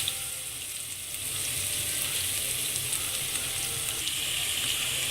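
Garlic and fenugreek seeds fry in hot oil for a Sri Lankan fish curry, giving a dense, even crackling sizzle that swells slightly after the first second and holds steady, close with no voices.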